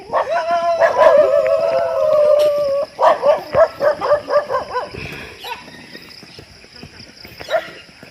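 Several dogs close by let out a long howl, then a rapid string of loud barks that fades into scattered yelps.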